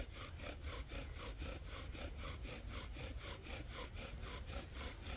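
A wooden bow drill spindle grinds against its fire board under extra pressure, a rapid rhythmic back-and-forth rasping of even strokes, close and fairly quiet, with no talk.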